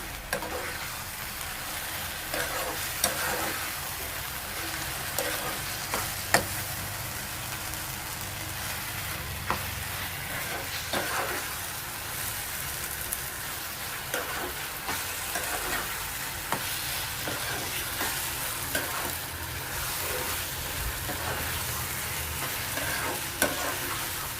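Grated raw mango sizzles steadily in a hot pan for mango pickle, with a spoon stirring and scraping through it in repeated close strokes, a continuous frying hiss under the clatter and no voices.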